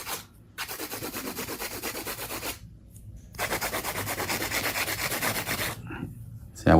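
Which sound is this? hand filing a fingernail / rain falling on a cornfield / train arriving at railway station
hand filing a fingernail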